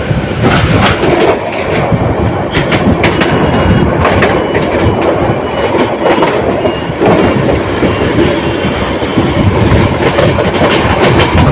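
The Mohanagar Provati Express rolls slowly past Dhaka's Karwan Bazar, a loud, close, continuous rumble with rhythmic clickety-clack of wheels over rail joints, and no voices.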